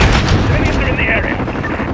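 Rockets and gunfire rumble and crack during a Modern Warfare firefight in Piccadilly, a dense, loud wash of booms and shots that fades slightly toward the end.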